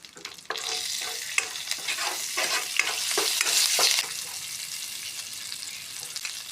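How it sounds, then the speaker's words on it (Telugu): Tempering spices and curry leaves crackle and sizzle in hot oil for coconut chutney, a loud close frying hiss with sharp pops and stirring scrapes, no talking. "తాలింపు యాడ్ చేసిన తర్వాత కొంచెం కరివేపాకు యాడ్ చేసుకున్నాం"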